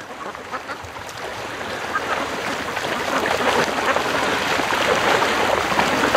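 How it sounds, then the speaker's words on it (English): A flock of ducks swims and splashes in water, letting out dense overlapping quacks and splashing that build gradually and grow louder toward the end. "Look at these happy ducks."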